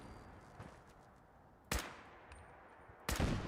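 Two sharp sniper rifle shots ring out at turrets in Fallout 4, each a loud crack with a short ringing tail, set apart by a quiet gap over low background hum.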